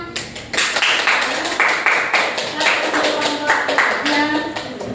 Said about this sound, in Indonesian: berikan tepuk tangannya.